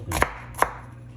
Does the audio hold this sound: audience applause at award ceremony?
no